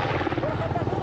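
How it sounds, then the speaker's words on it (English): A Special Forces Black Hawk helicopter descends with a dense, continuous rotor roar and throbbing rumble, loud and close, while a voice talks over it. "the Special Forces Black Hawk helicopter descends"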